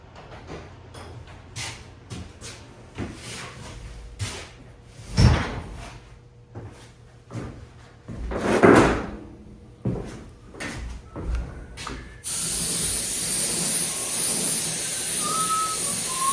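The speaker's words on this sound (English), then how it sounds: "Let me close these paint booth doors" Paint booth doors swing shut in a run of knocks, clicks and two heavier thumps, followed by a steady, loud whooshing hiss that fills the rest of the time, with no talking.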